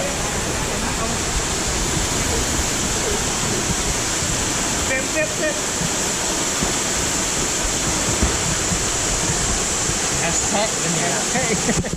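A loud, constant rush of falling water, a steady roar that fills the whole stretch without letup, with faint scattered sounds barely audible beneath it.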